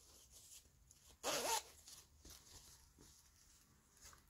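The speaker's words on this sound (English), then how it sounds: "Let me close the zipper." A single quick pull closing a dress zipper, a short bright rasp lasting about a third of a second, close by in an otherwise quiet room.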